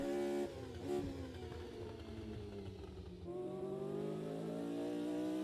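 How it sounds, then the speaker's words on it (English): Formula Junior retro race cars thunder past on a 4-kilometre circuit, a loud continuous engine roar with rising and falling revs as machines pass close by, no talk over it. "Don't these cars sound great?"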